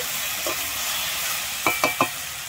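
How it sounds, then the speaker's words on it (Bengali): Malabar spinach seeds fry in a pan with a constant close sizzle, broken by three quick scraping stir strokes near the end. "আমার কিন্তু পুঁই মেজিটা এখানে খুব ভালোভাবে কিন্তু ভাজা হয়ে গেছে।"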